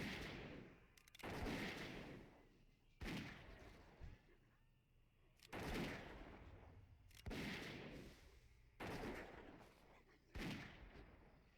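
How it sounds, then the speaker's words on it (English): Hunter character in World of Warcraft: Wrath of the Lich King firing at enemies, producing a series of about six loud, sharp shot bursts spaced every second or two, each trailing off into game ambience. "and then we start firing at them."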